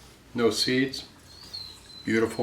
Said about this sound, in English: That squeaking noise you hear in the background is our puppy